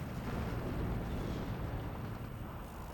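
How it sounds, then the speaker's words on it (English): Mortar fire in the strategy video game Steel Division 2, heard as a dense, continuous rumble of low booms and blasts that stays loud and steady throughout, with no talk. "now using the mortar to lay down fire here"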